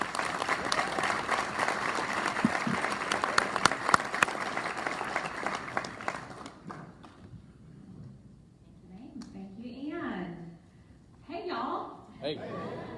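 Audience applause at a Rotary district assembly, a dense steady clapping from a large room that lasts about six seconds and then stops, followed by someone speaking from the stage.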